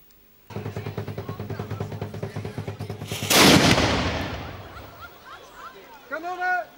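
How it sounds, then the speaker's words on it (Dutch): A low rumbling mechanical rattle runs steadily before a single loud blast from a large cannon at a historic fortress-town event booms and fades, followed by a faint voice. "er gaat weer geschoten worden. Groot kanon geladen."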